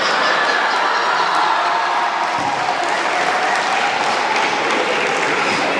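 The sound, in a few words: audience applause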